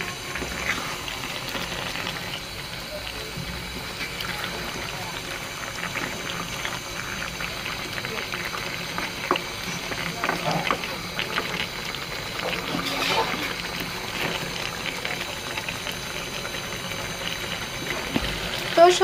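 Mixed vegetable curry with lentil fritters simmering and being stirred in a pan makes a continuous low bubbling, sputtering sound, fairly even throughout with faint scrapes.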